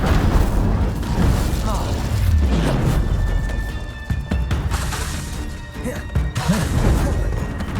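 Incendio fire spell cast in Hogwarts Legacy amid combat, with loud whooshing bursts and crashing impacts layered over battle effects, several hits spread through the stretch.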